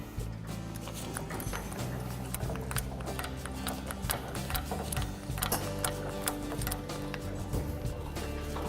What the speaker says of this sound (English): Would you, David, help me out and crank that up?